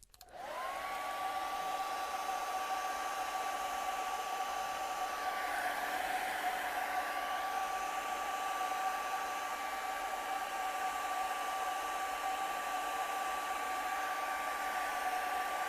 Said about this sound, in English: I'll just show you right now what would happen if I use the hair dryer